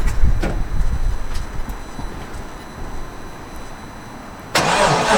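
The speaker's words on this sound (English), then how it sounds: "give her a crank, start her up." A car with a 3-inch exhaust cranks over for several seconds with a rough, uneven churning, then fires up with a sudden loud burst at the end, heard close by.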